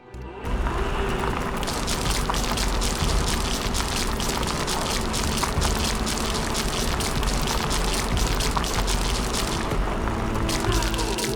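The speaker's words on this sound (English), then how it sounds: "It's raining. It will decrease the output from solar panels until it stops." Rain falls in the video game The Riftbreaker as a dense, steady hiss of drops that holds at an even level throughout, with no voice over it.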